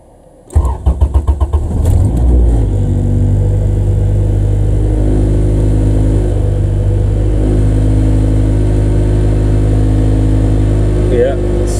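Honda Civic EF engine cranks and catches, then settles into a loud, steady close-up idle with slight rises in revs, a voice speaking briefly over it.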